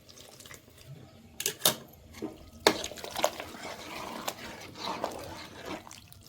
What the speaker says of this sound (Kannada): ಕಾಸಿದ ನೀರು ಹಾಕ್ಲತ್ತ ನೋಡ್ರಿ ನಾನು